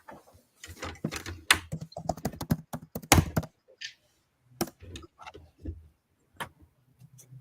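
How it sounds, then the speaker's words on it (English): Typing on a noisy computer keyboard: bursts of clacking keystrokes, dense and irregular at first, then sparser taps with pauses, close and fairly loud, no talking. "Most people's keyboards are noisy unless you've got those separate keyboards that have the padding underneath the keys"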